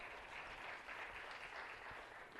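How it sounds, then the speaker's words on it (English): A city council chamber in Los Angeles fills with a brief, even round of applause for a guest, faint and steady throughout with no one talking over it. "Yeah, you can give him a round of applause."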